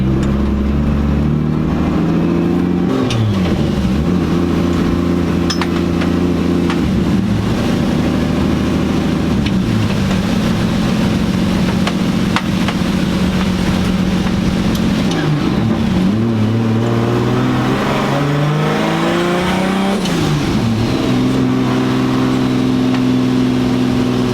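A Lexus IS300 car rolling down a driveway, its engine note steady and close with pitch dips and rises as it moves, continuous throughout.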